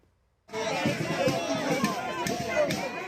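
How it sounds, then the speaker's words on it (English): Crowd of demonstrators gathered outdoors in Manhattan, New York, on a cold day with ice on the ground, a loud, steady hubbub of many voices with cheering swells and sharp shouts, starting abruptly after a brief near-silent moment. "a crowd gathered in support of Maduro's capture"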